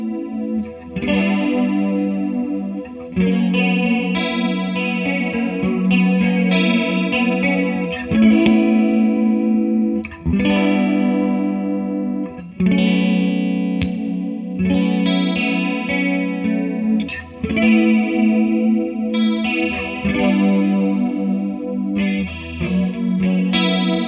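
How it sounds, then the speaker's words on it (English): Electric guitar drenched in a thick, swirling double chorus from two stacked chorus pedals, one fast and one slower, strumming chords with short pauses between phrases, slightly driven and wide. "1 chorus pedal set quite fast and 1 a bit slower"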